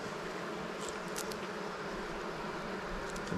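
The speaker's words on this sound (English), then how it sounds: "This hive's about to explode." Honey bees swarm-buzz at an open, crowded hive being inspected, a steady dense drone holding evenly throughout with a few brief higher whines of individual bees passing close.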